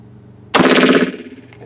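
A gunshot at an outdoor shooting range as a magazine is emptied: one loud, sharp report that rings out and decays over about a second, with no other sound around it.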